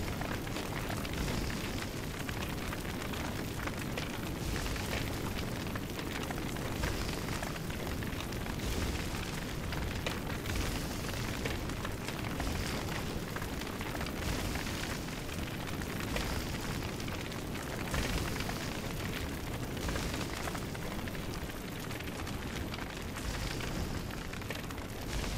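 A forest fire burning in the survival game Don't Starve, a steady, even roar with a faint crackle that holds unbroken from start to finish, with no voices.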